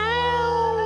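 A voice imitates a cat's yowl in a single drawn-out, loud, nasal wail that lasts just under a second.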